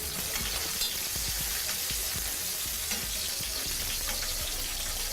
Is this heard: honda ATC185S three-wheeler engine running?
no